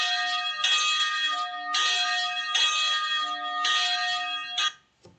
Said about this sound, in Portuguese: toca o sino, que lá vem a apresentação